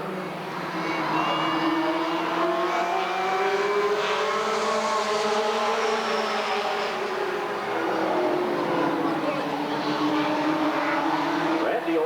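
Stock cars, including a Chevrolet Lumina, roar around the oval at Redwood Acres Raceway in 1991, engines rising and falling in pitch as they accelerate past, loud and continuous, with a commentator talking over the noise.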